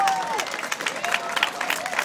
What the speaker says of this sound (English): give this young man a big clap